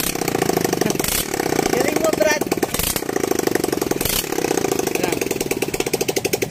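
A Suzuki GD 110 motorcycle engine runs with no exhaust pipe fitted, a loud raw rapid-fire popping rattle, revved in surges with brief pauses, close up with people talking over it.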